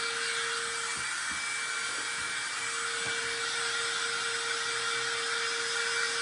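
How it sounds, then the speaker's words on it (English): A steady, loud blowing whir of a hair dryer warming wax runs throughout, with a few faint taps and knocks beneath it. "I'm going to use my dryer one more time just to kind of warm my wax up"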